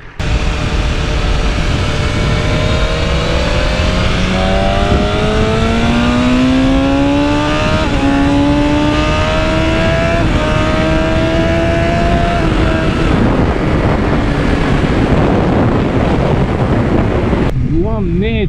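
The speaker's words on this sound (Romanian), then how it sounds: "Ce repede accelerează motorul ăsta." A 1000cc motorcycle engine on a race track revs up through rising gear pitches, whining louder and higher as it accelerates, with heavy wind rush over the microphone throughout.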